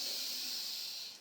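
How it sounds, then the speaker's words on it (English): A single soft, airy inhale through the nose or mouth, faint and close, lasting about a second before fading out. "Breathing in."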